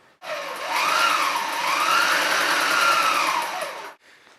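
A mini walking foot sewing machine stitching thin cotton apparel fabric makes a steady close motor whirr that rises and falls slightly in pitch for about four seconds, then stops abruptly.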